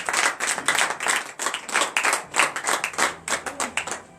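A church congregation claps loudly during morning prayer, a dense run of rapid, uneven handclaps close up that holds steady for several seconds, with faint voices mixed in.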